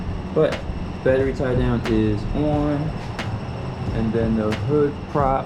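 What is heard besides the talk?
fan running in a hot garage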